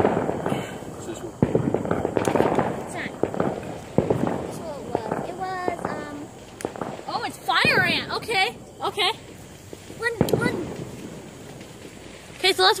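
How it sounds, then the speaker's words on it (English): A fire ant firework goes off in a string of crackling bursts and pops, loud and close, with people talking and exclaiming over it. "let's watch this fire ant explode"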